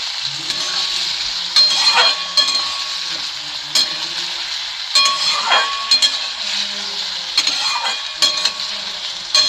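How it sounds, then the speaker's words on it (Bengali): Onions and potatoes fry in a pan on a medium gas flame, with a steady sizzle and occasional scraping stirs of a spatula, close and continuous. "দেখুন আমি আবার তুলে নাড়ছি"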